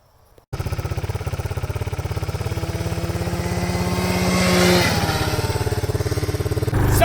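A small off-road vehicle engine starts up and idles with a rough, rapid putter, revving slightly higher partway through before settling, close by and loud.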